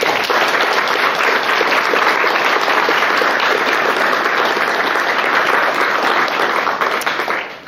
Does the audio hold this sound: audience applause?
yes